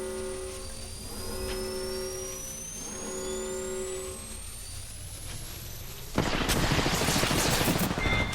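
Gunfire from the video game Apex Legends erupts in a dense, loud burst of rapid shots after a stretch of steady tonal game sounds, with no talk over it.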